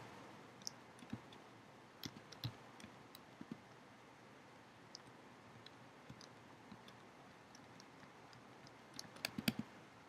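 Typing and mouse clicks on a computer keyboard come as sparse, faint, close taps and ticks over a quiet hiss, with a small cluster of quicker clicks near the end.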